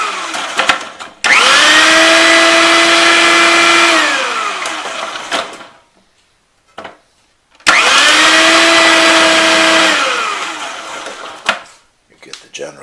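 A food processor slicing daikon radish runs in two loud bursts of about three seconds each, a steady high motor whine that drops in pitch as it winds down, with quiet gaps between.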